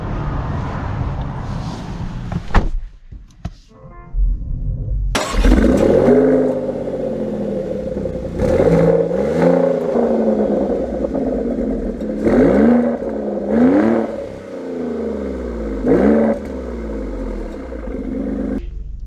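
A 2024 Maserati Grecale Trofeo SUV pulls away and accelerates, its engine rising through repeated upshifts in a sweeping, steady drone heard from inside the cabin, with no talking.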